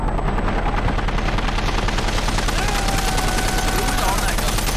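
Relentless machine gun fire rattles steadily in Hell Let Loose, a World War II shooter, loud and unbroken with faint engine drone beneath it.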